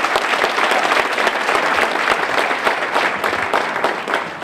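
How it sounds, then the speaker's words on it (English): An audience at a motivational talk in South Africa applauds steadily, dense clapping filling the space at an even, sustained level throughout. "give them a tremendous round of applause"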